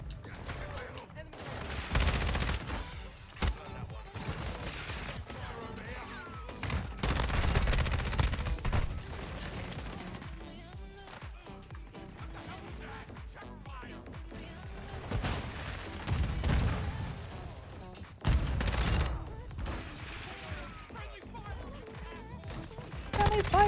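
Video game gunfire in a multiplayer shooter, dense bursts of automatic fire and explosions recurring throughout, loud and close, with a player shouting over it.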